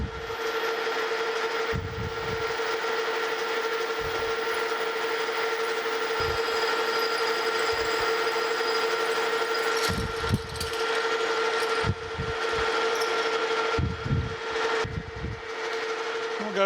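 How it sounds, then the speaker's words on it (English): A drill bores a 3/8 inch pilot hole into a machined grinder flange, giving a steady, close mechanical whine with a ratcheting edge, broken by intermittent low thumps throughout. "Start with a 3/8 inch pilot hole."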